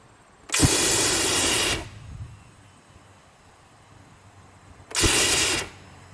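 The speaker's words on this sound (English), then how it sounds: "now we can light our pilot light, sending gas up the copper pipe" Propane gas hissing through a copper pipe to a pilot light on a DIY Halloween poofer fire effect, heard as two loud, steady bursts of rushing hiss, the first about a second long and the second shorter, with quiet between them.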